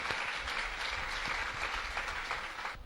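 Audience applause welcoming a TV serial's writer at a cast felicitation event, a steady, fairly faint wash of many hands clapping at once, heard alone.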